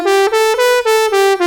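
A B whole tone scale played on an EWI electronic wind instrument: six clear, loud sustained synth-like notes in quick succession, each separated by a brief articulation gap, with no talking.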